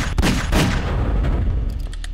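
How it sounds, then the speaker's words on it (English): Loud, rapid gunfire bursts from a gun in the video game Garry's Mod, fired at Freddy in a Five Nights at Freddy's map, heard close and dense with no talk. "I'm shooting him."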